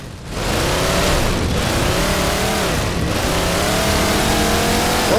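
A vehicle engine in Halo 4 revs loudly and steadily, its rising and falling tone sustained close up for several seconds after a quick start.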